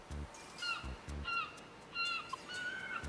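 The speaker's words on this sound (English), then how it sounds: "Just listen to them gulls." Seagulls call in the CrossCode video game, several short squawking cries at moderate volume, repeating in clusters over a low rhythmic pulsing background.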